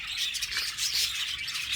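Birds chirping and tweeting in a busy, continuous flurry of high calls, fairly near and steady, with no voices.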